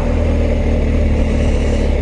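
Steady, close running of a BMW R1250GS motorcycle's boxer engine, a constant low rumble holding an even pitch throughout with no voices.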